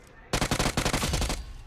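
Rapid burst of roughly a dozen loud gunshots from a battle royale video game, sharp evenly spaced reports starting abruptly and stopping after about a second, close and dominant with no talk.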